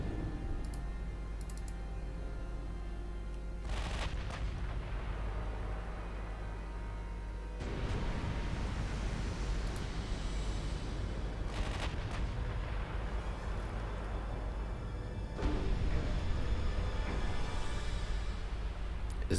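Warship guns fire in a naval battle in the game Ultimate Admiral Dreadnoughts, German fleet circa 1910, with repeated booming bursts over a constant rumbling battle din and no voices.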